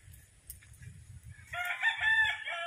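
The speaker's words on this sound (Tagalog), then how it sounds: "Malalaking manok po ito." A white-legged broodstag rooster crows loudly and close, one drawn-out call rising after soft low clucking and shuffling from the chickens nearby.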